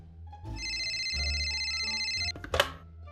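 A telephone rings in Fallout 4, a steady repeating electronic trill that holds for almost two seconds over low thumping game ambience, then cuts off and is followed by a brief clatter.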